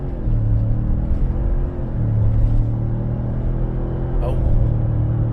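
A Ford F150 pickup in 4x4 auto pulls away from a stop with a steady, loud engine rumble that climbs in pitch as it gathers speed, heard from inside the cab.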